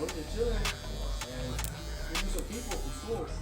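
A Stylecraft Instinct hair clipper hums with a steady electric buzz while cutting hair, pulsing slightly with each pass, as someone talks over it.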